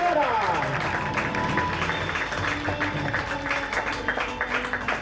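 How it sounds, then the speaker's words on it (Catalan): Applause and crowd noise fill the space after a Catalan field hockey championship final between Atlètic Terrassa and Club Egara, steady and fairly loud throughout with some voices mixed in. "Un fort aplaudiment per tots els jugadors del Club Egara."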